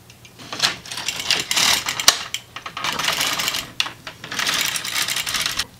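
An LK150 knitting machine knits rows on a fresh cast-on, its carriage sliding back and forth in three rattling, clicking passes with brief pauses between them, close and alone.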